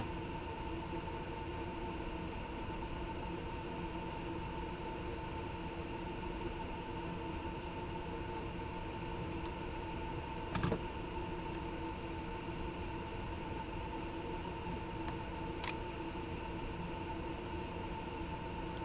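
A BR 187 electric locomotive running in the Train Sim World 2 simulator gives a steady, even cab drone with layered tonal hum, plus a single brief clank about midway and faint occasional ticks.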